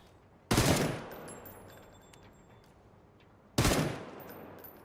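Two separate loud, close bursts of gunfire from a PUBG match, each a sharp blast that fades over about a second, with quiet game ambience between them and no talking.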